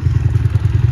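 A motorcycle engine thrums close and loud during a ride on the road between Chitwan and Tanahun, a rapid, steady low putter with slight rattling and no speech.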